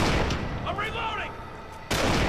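Shotgun blasts in the game Kane and Lynch 2: a loud boom rings out and decays, followed by another sharp, heavy blast near the end, with a voice briefly over the ringing.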